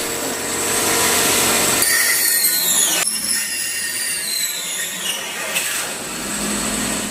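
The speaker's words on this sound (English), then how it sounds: "Now let's cut the plywood and test the machine." A homemade CNC wood machine cuts plywood with a loud, continuous grinding whine. The pitch shifts and sweeps as the cut goes on, heard close up and alone.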